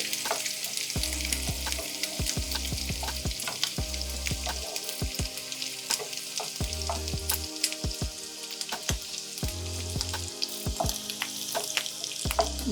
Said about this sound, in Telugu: బటర్ కొంచెం ఎగురుతుంది కదా కొంచెం లో ఫ్లేమ్లో మంచి స్మెల్ వచ్చే వరకు